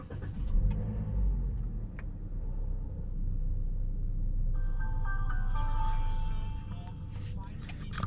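A 2019 Toyota Yaris 1.5G starts with a low cranking rumble that settles into a steady idle inside the car in Malaysia, followed by the soft chime and sound of the radio turning on.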